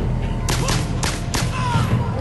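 Gunfire in the Bionic Commando video game: about four sharp, loud shots crack out in quick succession over a low background hum.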